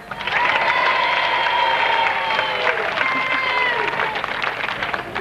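Applause from a crowd at a 1978 jousting show at Gwrych Castle for the losing knight, a dense, steady clapping that swells quickly and holds for several seconds, with a voice calling out over it.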